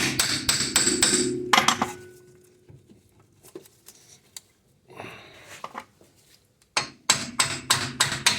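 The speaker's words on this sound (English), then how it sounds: "Just gonna hammer a little bit on the axle." Rapid metal hammer blows ring out in bursts on a Honda Accord CV axle, with a quieter stretch of scattered taps and clanks in between before the pounding resumes.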